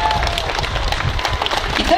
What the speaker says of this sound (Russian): Альф, ну тебе уже гости аплодируют.